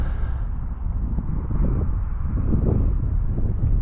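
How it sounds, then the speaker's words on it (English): Steady wind buffets the microphone at a lakeside fishing spot, a continuous low rumble and roar that swells slightly midway, with no other clear sounds. "That's the wind there"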